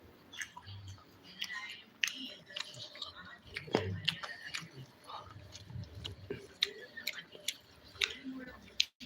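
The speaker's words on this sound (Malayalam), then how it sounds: "ഇപ്പോൾ ഞാനും വൈഫും കൂടെ കഴിച്ചുകൊണ്ടിരിക്കുന്ന" People chewing while eating a dinner of rice and chicken fry, soft close mouth sounds and small clicks, with quiet murmured talk mixed in.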